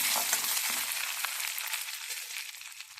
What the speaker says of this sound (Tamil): கொஞ்சமாக உளுந்து போட்டுக்கிறேன். கொஞ்சம் பொன்னிறமாக வதக்கிக்கோங்க.